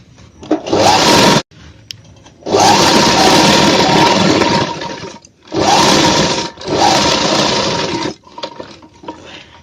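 A sewing machine stitches a men's shirt in loud, whirring bursts of rapid stitching, each lasting a few seconds, separated by short quiet pauses as the fabric is turned.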